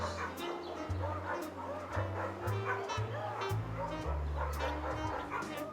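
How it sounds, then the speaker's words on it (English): Several dogs bark and yip repeatedly in short bursts, with occasional whimpers, over a low musical backing. "Dogs."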